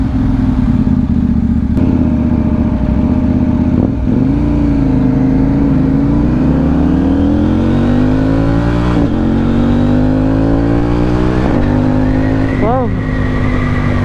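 KTM Duke 790 motorcycle fitted with an Akrapovic exhaust, its engine loud and close as it revs up and shifts through the gears, the pitch climbing and dropping with each gear change.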